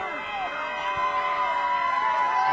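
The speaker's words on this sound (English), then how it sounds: "Crowd getting into it. We hear the Chulo chants coming" Wrestling event crowd cheering with a dense, continuous roar of many voices, a rising chant building within it.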